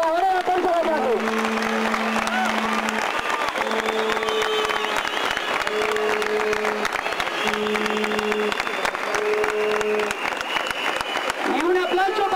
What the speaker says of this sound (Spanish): Un aplauso para ellos, para los trabajadores de la Casa de Gallardo.